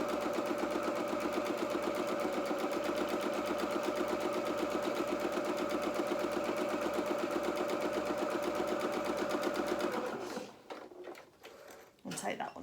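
A sewing machine stitching fabric runs steadily at an even, rapid mechanical rhythm for about ten seconds, then stops, leaving a few handling noises and a voice speaking at the end.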